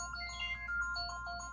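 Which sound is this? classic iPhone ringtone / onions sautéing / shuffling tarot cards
classic iPhone ringtone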